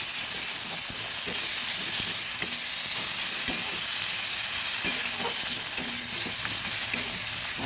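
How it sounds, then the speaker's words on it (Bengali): Pumpkin leaves fry in a pan with a continuous loud hiss of steam and sizzling, as water cooks off, with frequent soft scraping clicks from stirring. "ভালোভাবে নেড়ে জলটা শুকিয়ে নিতে হবে।"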